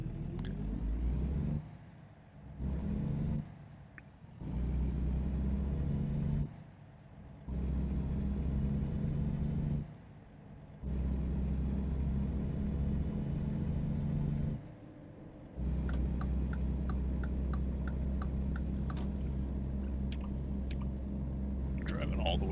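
A heavy truck driving in American Truck Simulator, a low steady engine drone held through most of the stretch with several brief dips between gear changes, moderately loud, with soft voice-like sounds scattered over it.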